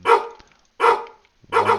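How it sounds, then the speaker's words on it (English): Dogs in the video game No Ones' No Where bark three times in a slow, evenly spaced series, each bark loud, close and sharp with silence between. "there are some dogs barking here"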